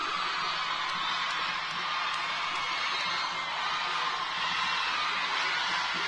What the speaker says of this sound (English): Oh, that crowd is loud.